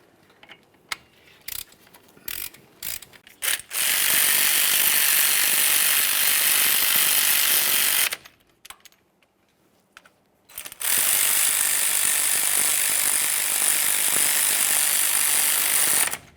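A hand ratchet snugs up the front brake caliper slider pins on a 1999-2006 Chevrolet Silverado 1500. A few scattered clicks lead into two long, loud, close bursts of rapid ratcheting, separated by a short pause, with no talking.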